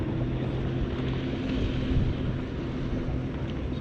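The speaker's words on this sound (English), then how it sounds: "Jet ski." A jet ski passes an inshore fishing boat, a steady low engine drone rising slightly and fading under wind and water noise, heard alone with no talking.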